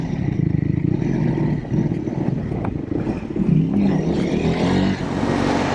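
A Triumph Scrambler 400X single-cylinder motorcycle engine pulls steadily while riding, a rough continuous rumble with wind buffeting, rising slightly as the throttle opens, with no talking.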